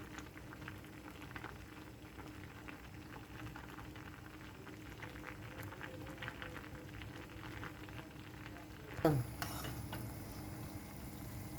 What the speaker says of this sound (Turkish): Reçelim böyle kaynıyor sevgili arkadaşlar.